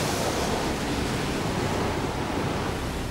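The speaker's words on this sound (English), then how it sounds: "20-foot waves and 60-knot winds are pounding the Francis Anne" Storm surf and 60-knot wind batter the fishing boat Francis Anne amid 20-foot waves, a loud, unbroken roar of wind and crashing water with no break in the rush.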